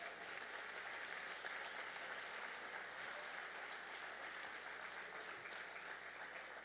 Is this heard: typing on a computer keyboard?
no